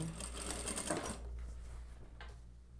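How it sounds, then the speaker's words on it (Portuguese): A sewing machine runs briefly stitching binding onto a denim dress, a quick whirring burst for about a second, then quieter handling sounds. "E aí eu dobro metade e vou costurar na outra bordinha."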